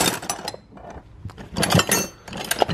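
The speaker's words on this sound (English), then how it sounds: "Some adjustable wrenches." Adjustable wrenches, including a Husky, clink and clatter inside a heavy box of hand tools, giving several short metallic knocks and rattles at close range with no talking.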